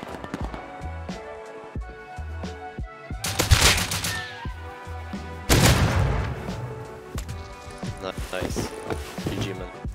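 Suppressed AK rifle fire in the survival game Rust, rapid bursts of shots crackling over a busy in-game soundscape with bright impacts, loud and close.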